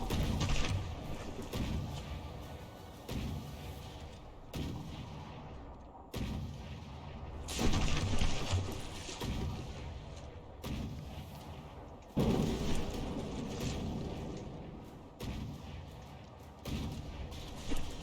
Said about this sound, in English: Ooh, torpedo hits, followed by mortar hits.